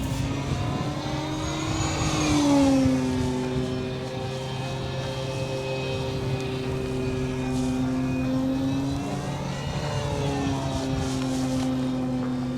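A small propeller engine on an FMS Pitts 1400mm RC model airplane drones steadily, its pitch rising and falling as it swoops past, whining higher on each pass, moderately close.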